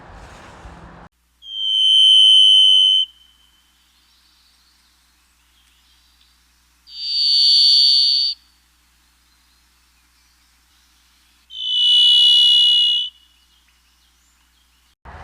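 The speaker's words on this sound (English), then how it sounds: "It's a series of long whistles described as buzzy, metallic, and flute-like." Varied thrush song from a thick, damp coniferous forest on the west coast: three long, buzzy, metallic whistles, each about two seconds and separated by pauses, clear and fairly close against a quiet background.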